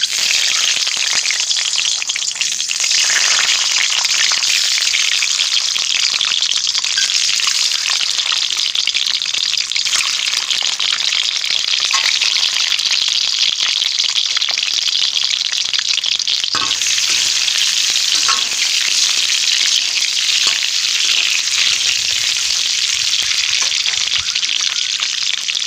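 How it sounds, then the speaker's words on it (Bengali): Eggs fry in hot oil in a kadai for egg biryani, a loud, continuous sizzle and crackle that runs unbroken, close up and with no voices. "এবার আমি কড়াইতে ডিমগুলো একে একে দিয়ে ভেজে নেব।"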